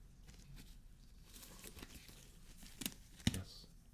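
A new type of fabric being handled close up, soft crinkling and rustling with a few sharper crisp crackles near the end, quiet and intimate, no speech.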